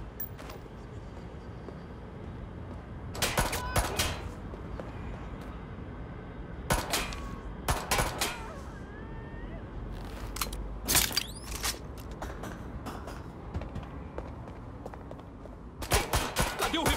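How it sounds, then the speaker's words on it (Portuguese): Gunfire in the Watch Dogs: Legion video game comes in separate sharp bursts across the stretch, each a short cluster of loud shots over a steady low rumble of game ambience. "Eu estou sob fogo!"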